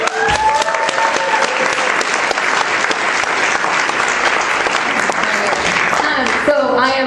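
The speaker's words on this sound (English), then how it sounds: "Let's welcome Allie to the stage with a warm round of applause" A large audience bursts into steady, loud applause to welcome a speaker onto a stage, dense clapping filling the whole stretch before fading slightly at the very end.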